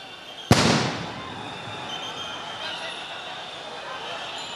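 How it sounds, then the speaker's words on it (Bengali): At a street protest march, a police sound grenade goes off in one sharp, loud blast, followed by a noisy crowd roar that lingers afterward. "সাউন্ড গ্রেনেড ব্যবহার করে পুলিশ।"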